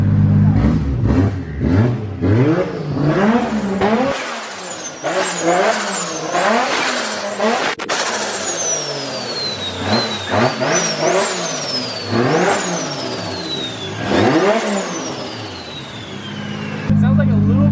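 A freshly built 1.5JZ engine revs repeatedly after its first start, sweeping up and down in sharp rising and falling blips with a whistling spool on top, loud and close, while people talk over it.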